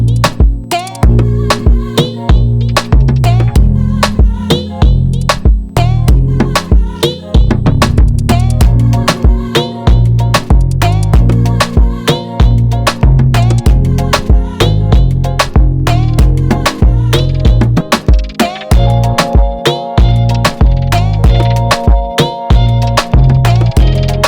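Afrobeats-style beat with drums and pads plays as a full mix, loud and steady throughout, with punchy repeating drum hits under sustained pad chords and a melodic layer entering near the end.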